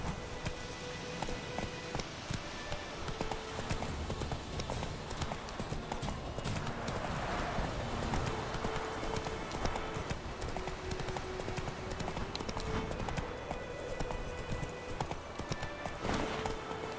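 Hoofbeats of Geralt's horse Roach in The Witcher 3: Wild Hunt, a steady rhythmic clip-clop at a gallop, continuous over a dense bed of game ambience, fairly quiet, with a brief voice partway through.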